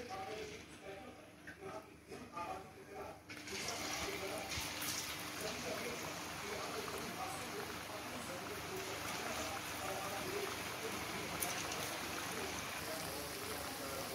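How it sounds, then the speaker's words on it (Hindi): Battered honey chilli potato fries bubble and hiss in hot oil in a kadhai over a medium flame, the sizzle rising to a steady loud roar after the first few seconds, with a voice talking over it. "हमने ये फ्राइज इस तेल में डाल दिए हैं। अब हम इसे क्रिस्पी ब्राउन होने तक फ्राई करेंगे मीडियम फ्लेम पर।"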